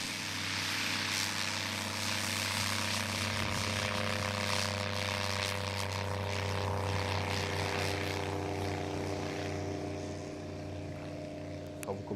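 A light propeller aircraft taxis along a runway, its engine droning steadily and loud throughout with a constant tonal hum and no talk.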